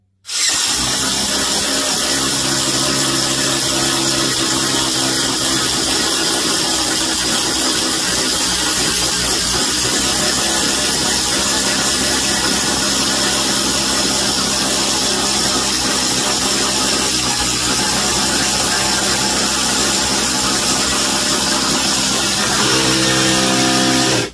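A Ryobi drill bores through metal in a head-to-head drilling test, a loud, continuous motor whine and grinding that holds steady for more than twenty seconds.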